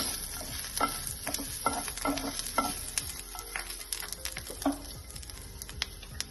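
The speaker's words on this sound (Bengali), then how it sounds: "প্রথমে দিয়ে দেব রসুন কুচি, হালকা একটু নাড়িয়ে নেব।" Chopped garlic fried in ghee in a pan for a sandwich filling gives a soft sizzle, with repeated scraping strokes of a spatula and light clinks, close and fairly quiet, no speech.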